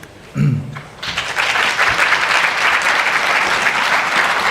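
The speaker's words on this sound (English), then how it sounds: "Another round of applause for Isabel Samariza." A conference audience at an opening plenary breaks into loud, sustained applause after a brief voice at the start, the clapping dense and steady to the end.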